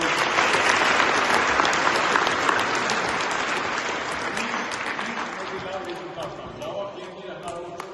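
An audience applauds athletes at a ceremony with dense, sustained clapping from a crowd that gradually thins and softens toward the end, while a voice is heard over it.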